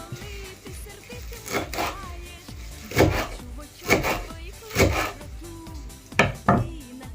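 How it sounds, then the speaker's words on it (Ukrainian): Borscht with dried crucian carp being stirred and ladled out in a traditional Baturyn-region kitchen, with repeated knocks and scrapes of a ladle against a pot, several louder clatters spaced a second or so apart, close by with no talk. "Розмішуємо і насипаємо."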